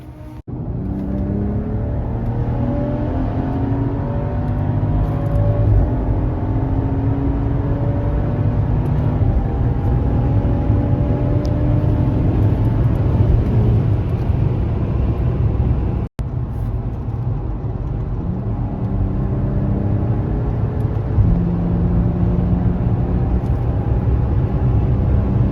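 A Stage 2 tuned BMW engine drones loudly and continuously through a test drive, rising and falling in pitch as it revs and shifts through gears, with one brief cut partway through.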